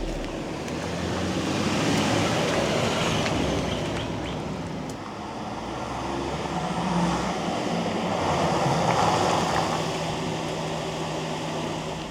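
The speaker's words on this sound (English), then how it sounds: "3 different levels of speed where you can actually tell the amount of cabin noise that you're getting" Steady road and tire roar heard from inside a vehicle cabin while driving on AVIX TrailTek R/T tires, a broad continuous rush that swells and eases slightly with speed, with no talking.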